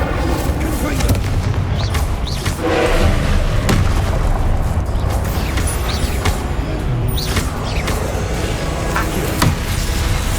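Spell blasts and explosions from the Hogwarts Legacy video game burst in a dense, continuous barrage, loud booms and crackling impacts layered over constant battle noise, with a voice shouting incantations over the fighting.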